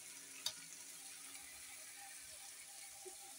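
Quiet, steady sizzle of onion and garlic paste frying in oil, a soft continuous crackle with one brief sharp clink near the start and no talking.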